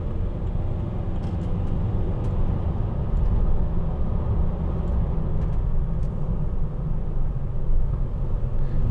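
A 2009 Mercedes-Benz Vito 115CDI van drives past a transporter, a steady low road rumble and engine drone with tyre noise holding level throughout, no talk.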